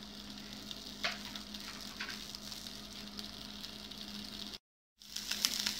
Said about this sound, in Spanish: Empezar a freír la salchicha